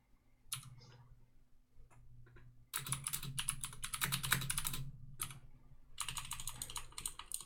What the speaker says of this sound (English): I'm typing it out